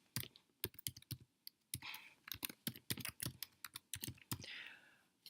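An email address being typed on a Mac computer keyboard: quick, uneven bursts of crisp key clicks with brief pauses, close and clear, with no talking.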